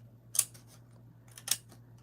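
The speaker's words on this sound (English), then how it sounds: "Then I'll cut this end out right here," Two crisp scissor snips cutting through craft material, close up and quiet, with a soft ticking and faint handling between them.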